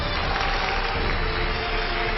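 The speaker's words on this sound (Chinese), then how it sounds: "掌声请出这一对，掌声有请。" A studio audience claps to welcome a couple onto a talk show, a brief, dense and steady burst of applause with no pause.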